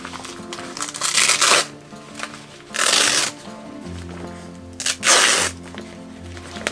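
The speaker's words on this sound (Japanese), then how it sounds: "これもマジックテープでつながってるので、それを外してつけてあげます" A camera rain cover for a super-telephoto lens has its Velcro strips pulled apart in three loud close rasping rips separated by short pauses, with faint rustling of fabric between them.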